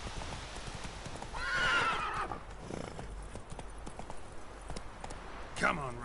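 A video game horse named Roach gallops with rhythmic hoofbeats, neighing loudly in the middle and again near the end, while a person talks over the action.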